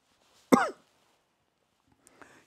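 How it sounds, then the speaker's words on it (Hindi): One sharp, close cough set off by hair spray during a hairstyling class, followed by a faint throat-clearing sound after a quiet pause. "ये स्प्रे जो है वो मुझे चढ़ती है इसलिए मुझे इससे ज़्यादातर टाइम खांसी आती रहती है"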